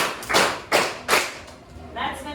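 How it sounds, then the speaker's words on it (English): Classroom students give themselves five claps in unison, heard as a few broad, rhythmic bursts of clapping spaced about evenly, moderately loud in a room. "Can we give ourselves 5 claps?"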